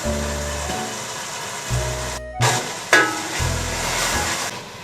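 Masala with coarsely cut green chillies and yogurt fries in a pan, a steady sizzle with a few clatters and stirring scrapes, close and fairly loud with no talking.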